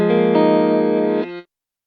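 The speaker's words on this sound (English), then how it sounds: "we've got further control over the tails of these delays in gate mode" Distorted delay repeats from a CorOS effects unit in gate mode sustain as a thick, buzzing chord, then the tail cuts off abruptly after about a second and a half, leaving silence.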